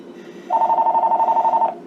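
A home telephone on a shared line gives its distinctive ring: one loud, close, trilling burst of about a second, then quiet, with no talk over it.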